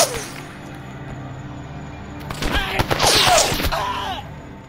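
Gunfire in the game S.T.A.L.K.E.R. Anomaly: a quiet lull, then a sudden burst of several sharp shots and a short rattling volley with echoing tails that fade out.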